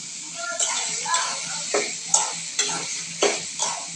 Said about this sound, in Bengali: এর সাথে চিংড়ি মাছগুলো ছেড়ে দিলাম